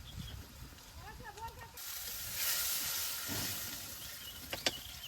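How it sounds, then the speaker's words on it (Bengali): Onions fry in oil in a pan for a fish-head and taro-leaf curry in a village kitchen, a steady close sizzle and hiss that swells midway, with faint birdsong and a sharp clink near the end. "পেঁয়াজটা খুব ভালোভাবে ভেজে নিচ্ছি"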